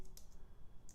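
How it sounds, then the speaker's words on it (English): Keys clack on a computer keyboard as a pip install command is typed, a few quick close-up clicks bunched at the start and end of a brief burst. "So I'm going to just type in pip"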